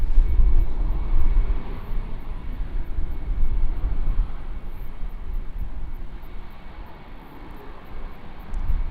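A Boeing 787 airliner departs Auckland Airport on a windy day: a broad, steady engine roar holds for several seconds, loud and fairly near, with no voices over it.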